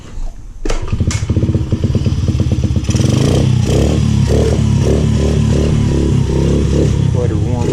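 A Honda XR50 motorcycle starts after a few clattering knocks and settles into a loud, steady, close single-cylinder idle as it warms up, with a voice speaking over the engine.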